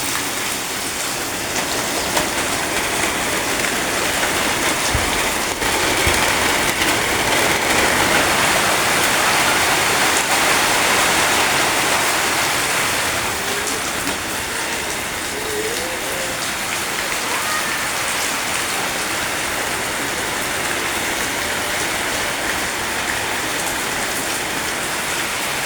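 Heavy rain pours down in a dense, steady hiss of drops striking surfaces, close and unbroken, with a faint thump or two early on and no voices.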